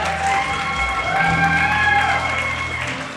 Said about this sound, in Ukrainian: Бурными аплодисментами встречаем!